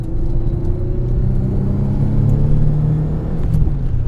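A modified Nissan 300ZX twin turbo 2+2 engine revs loudly while driving on a road, a deep close rumble rising and holding in pitch as the car accelerates, with no talking over it.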